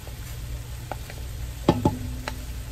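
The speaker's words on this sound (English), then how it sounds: "we're just going to cook this real quickly, about 30 seconds till you start smelling the garlic" Garlic frying in a pan for Hungarian goulash, a soft steady sizzle with a few brief clinks and scrapes of a spoon stirring, close up and without talk.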